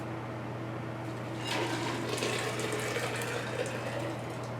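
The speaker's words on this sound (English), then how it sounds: "next we're going to go ahead and pour the juice back into the blender carafe" Watermelon juice pours steadily back into a blender carafe, a wet splashing stream that swells louder after the first second and a half and runs on close by, with no talking.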